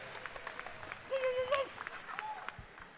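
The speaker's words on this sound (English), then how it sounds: "another round of applause" An audience applauds after a 165-pound amateur fight, with scattered claps sounding under prominent voices and crowd noise in a busy arena.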